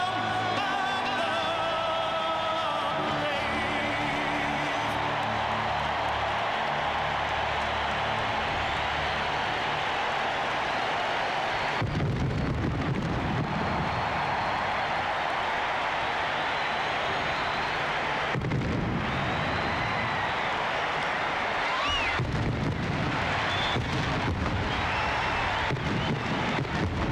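Fireworks go off over a baseball stadium right after the anthem at the 1994 MLB All-Star Game in Pittsburgh. Deep booming bursts rise out of a constant loud roar of crowd and blasts that fills the whole stretch.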